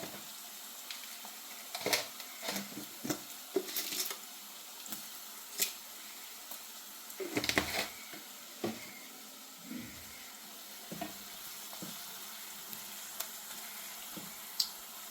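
Small onions with salt sizzle in a pan while a chicken kurma is being cooked: a low, fairly quiet frying hiss broken by scattered crackles and a few clattering stirs, with no talking.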